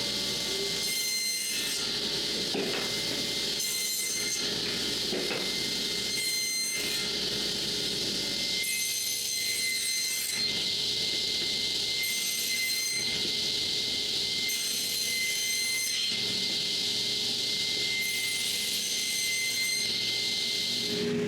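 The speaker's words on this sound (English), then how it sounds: "I adjust the height of the blade and the guide, and off I go to cut a tenon." A saw cuts a tenon into the end of a piece of wood during the making of a Canada goose carving, its bright, rasping passes coming in repeated bursts about every two to three seconds, loud and close with no talk.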